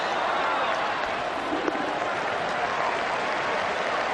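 A capacity cricket crowd at Eden Park applauds during a World Cup semi-final, a broad, continuous roar of clapping and crowd noise from a distance, steady and full from start to finish.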